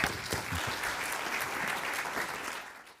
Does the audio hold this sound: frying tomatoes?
no